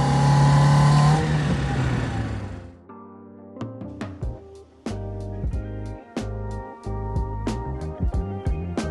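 A cheap junkyard Mazda Miata race car accelerates hard in second gear, a loud close engine roar that cuts off sharply, followed by a rhythmic stretch of sharp knocks and pulsing tones.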